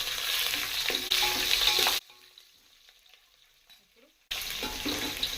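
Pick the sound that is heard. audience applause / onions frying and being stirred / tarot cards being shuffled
onions frying and being stirred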